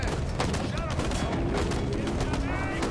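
Rapid video game gunfire in Halo Infinite, loud continuous bursts of shots with booming impacts, a voice speaking briefly over the firing.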